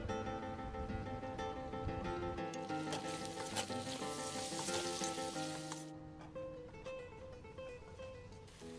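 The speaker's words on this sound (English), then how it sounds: "all this flavourful stuff left in the pan is used to start off the sofrito, the gently fried vegetable base" Sofrito vegetables fry gently in a pan of leftover meat juices for a game stew, a steady soft sizzle that swells louder in the middle, then settles back to a quieter hiss.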